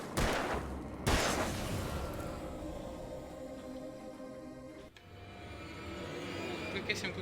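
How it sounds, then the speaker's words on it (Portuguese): Gunshots ring out in the Alan Wake video game: a few sharp, loud reports spaced seconds apart over a dark, rumbling game ambience, with a voice talking in between. "Três tiros."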